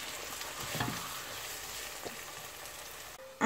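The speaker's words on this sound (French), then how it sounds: "Je vais faire revenir bien ces oignons-là avec aussi un peu de l'ail." Onions and garlic fry in a pan for rice with soumbara, making a steady crackling sizzle with a couple of soft stirring scrapes, then an abrupt louder noise at the very end.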